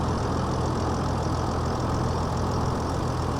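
A 225-horsepower farm tractor idles steadily in a field, its low, continuous engine rumble filling the clip with no talk.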